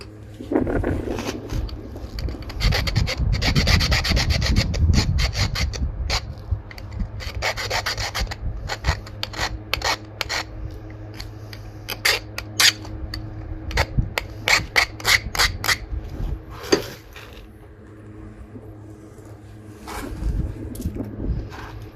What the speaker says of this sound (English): I'm going to go ahead and give that a good sanding